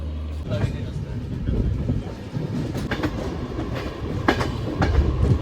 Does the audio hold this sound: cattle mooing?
no